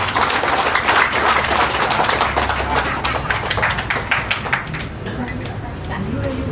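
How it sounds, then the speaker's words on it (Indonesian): A small gathering claps at a Hindu conversion ceremony, with a steady patter of hands that thins out toward the end while voices murmur underneath. "Tepuk tangan buat kita semua."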